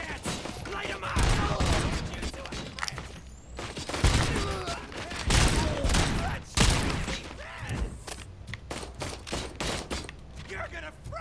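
Gunfire in the RoboCop: Rogue City video game, a dense run of loud shots and rattling bursts with impacts and clatter, mixed with shouting voices in the thick of a firefight.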